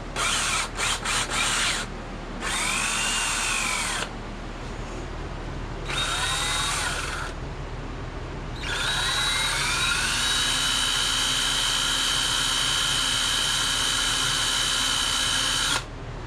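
A power drill whines in several bursts, spinning up and down in pitch, with short pauses between runs and then one long, steady high-speed spin.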